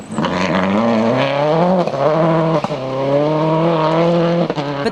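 The McKinstry Subaru rally car roars past on a stage of the 2001 Toshiba Rally, its engine loud and close with a rising, falling pitch through gear changes and a few sharp shifts.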